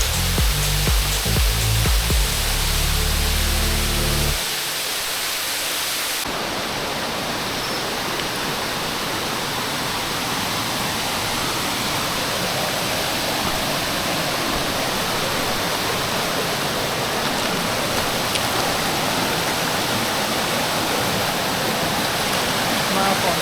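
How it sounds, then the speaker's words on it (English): A steady, loud roar of a waterfall and rushing stream swollen by recent rain on a Ricketts Glen Falls trail in Pennsylvania fills the whole stretch, preceded by a few seconds of low thumping. "We had a nice rain on Friday night, so the water's flowing today."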